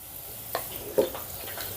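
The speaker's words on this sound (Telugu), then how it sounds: "ఇప్పుడు ఈ అల్లం వెల్లుల్లి పేస్ట్ని పచ్చివాసన పోయేంత వరకు ఫ్రై చేసుకుందాం" Ginger garlic paste frying with onions in a pan, a low hiss under a few soft spoon scrapes and taps.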